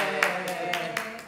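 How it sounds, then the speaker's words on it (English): Hands clap in a short, close rhythm, about four or five sharp claps spread evenly over just over a second, heard against a steady background hum. "clap the hands"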